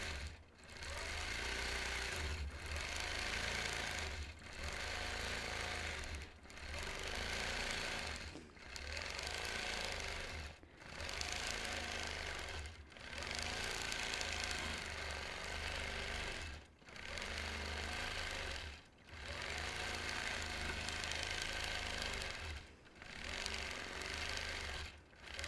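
A sewing machine stitches in steady bursts during freehand quilting of an orange peel design, each run of rapid mechanical chatter lasting a couple of seconds and separated by short pauses, repeating about a dozen times.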